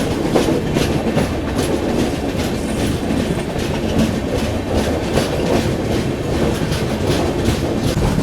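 A Guwahati–Sairang Express train runs through green hills near Bairabi and the Assam–Mizoram border, its wheels clattering loud and steady on the rails with no talk.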